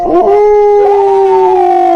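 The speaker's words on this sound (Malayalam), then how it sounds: "ഒരു നായയുടെ ഊലിയിടൽ കേട്ടു" A dog howls in one long, wavering, mournful tone that rises slightly and holds steady, loud and close.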